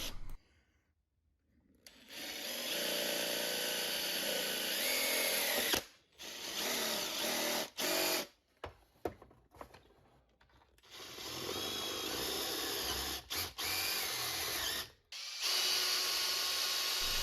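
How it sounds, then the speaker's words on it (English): A power drill whirs in repeated bursts, pre-drilling holes in a plastic dryer lint trap with short pauses between runs, close up and loud, no talking. "I'm only pre-drilling the plastic so that the screw doesn't bind up"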